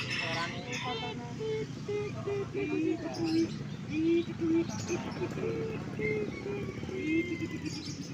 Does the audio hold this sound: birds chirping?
yes